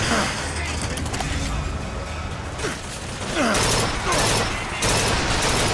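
Rifle fire in BioShock Infinite during a riot, with loud rough bursts of shots and mechanical clatter over a busy background while someone talks.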